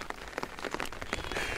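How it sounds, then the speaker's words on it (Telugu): Rain falls steadily outdoors where sheep are grazing in cold weather, a dense patter of drops on surfaces with brief louder splashes, continuous and fairly close throughout. "వర్షం పడుతున్నాయి"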